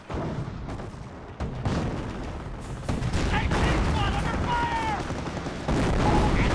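Incendiary mortar fire in the Company of Heroes 1 video game, a dense battle mix of bursts, booms and gunfire under continuous commentary, growing louder toward the end.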